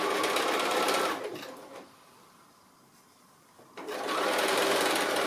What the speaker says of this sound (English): I'm just going to stitch my 1/4 inch seam along there